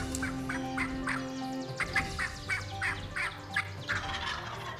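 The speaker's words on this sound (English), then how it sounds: "Unbelievable. Those really nice birds." Wild turkeys gobble on a spring hunt, a rapid series of rattling gobbles repeating in quick bursts, fairly close and clear over a low outdoor hum.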